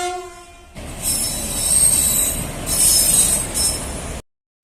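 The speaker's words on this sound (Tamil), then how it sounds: "இப்போ அந்த ரயில் சைரன் சவுண்டோடு நம்ம நோக்கி வந்துருச்சு" A freight train at a level crossing roars close by with a loud, sustained horn blaring in long blasts over the rumble and screech of wheels on the rails.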